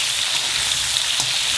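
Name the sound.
potato and aubergine frying in a pan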